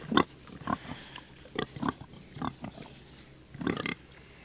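Pigs on a farm grunt and oink in a series of short, close, uneven bursts, with brief pauses between the grunts.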